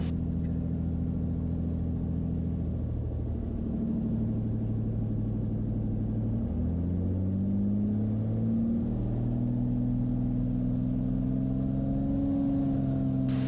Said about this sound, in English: Turbos kick in.